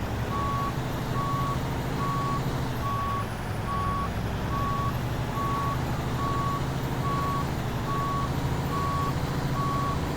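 A truck in American Truck Simulator backs up with a steady series of evenly spaced reversing beeps over a loud, constant engine rumble, with no voices.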